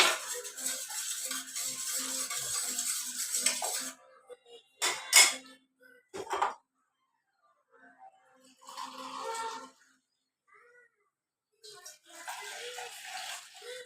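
A spoon clinks and scrapes against a bowl while stirring a home remedy mixture sweetened with honey, in a few intermittent bursts separated by quiet gaps, close and fairly soft.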